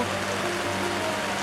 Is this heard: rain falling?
yes